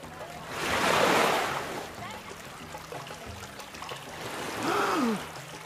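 River water in a cartoon baptism scene swells in two soft washing surges, like gentle waves, with a steady watery hiss between them and a voice speaking in the middle.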